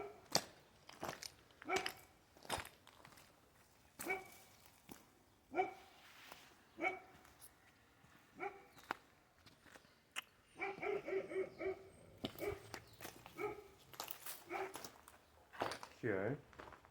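Dogs bark in repeated short bursts around a demolished site, a loud nearby bout early on, then a busier stretch with someone talking over yips and whimpers.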